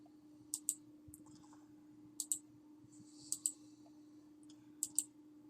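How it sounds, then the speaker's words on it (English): Computer mouse left-button clicks, close and crisp, coming in quick pairs four times with short pauses between, over a steady low electrical hum and no talking. "I'm just left clicking"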